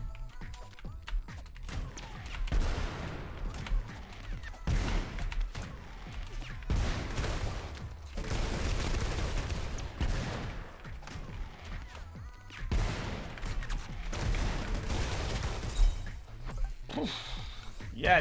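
Bursts of explosions and gunfire from the video game Rounds, coming in repeated loud clusters, with a person talking over the action.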